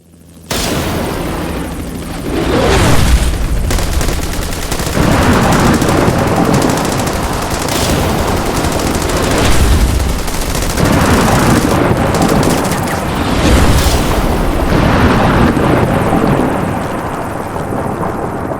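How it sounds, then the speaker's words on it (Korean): A loud helicopter thrums continuously while bursts of machine gun fire crackle and rattle throughout, dense and chaotic, with no voices. "헬기와 기관총 소리가 여기저기서 나고"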